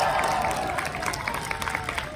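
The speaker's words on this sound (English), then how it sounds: "Give her a round of applause." Audience applause at an Auburn University marching band pre-game rehearsal, a steady wash of clapping from a crowd in a large outdoor stadium, sustained and moderately distant with a faint tonal hum underneath.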